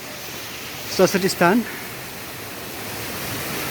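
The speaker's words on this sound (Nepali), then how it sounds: "एउटा झरना" A waterfall at Saraswotisthan in Sudal, Bhaktapur, gives a continuous even rush of falling water that fills the background throughout, with a brief spoken phrase over it near the middle.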